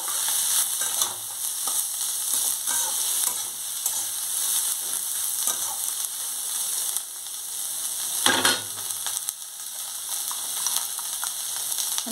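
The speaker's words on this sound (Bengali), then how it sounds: "এবার এটা ভালো করে নাড়তে হবে, অনেক সময় ধরে নেড়ে নেড়ে নেড়ে নেড়ে আস্তে আস্তে করতে হবে।" Bottle gourd peel stir-frying in a pan for a Bengali recipe: a constant bright sizzle broken by repeated scraping and clattering strokes of a spatula, with one louder scrape near the end and no voices.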